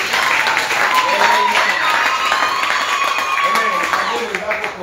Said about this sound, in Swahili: Makofi mazuri. Makofi mazuri.